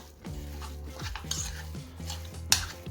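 Spoon stirring a meal maker mixture in a pan, steady scraping strokes with a faint sizzle beneath, metallic clinks and one sharp knock near the end, close and moderately quiet.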